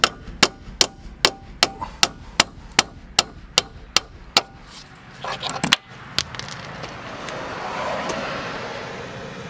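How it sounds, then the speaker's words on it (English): Steady, evenly spaced metal-on-metal hammer blows drive a flat chisel against worn plastic door hinge bushings on a Jeep, about a dozen sharp close strikes, then a scraping clatter and a rising rough hiss toward the end. "you don't have enough room to swing around your hammer. So I took a chisel, a flat chisel, caught the edge of the inside and got it started."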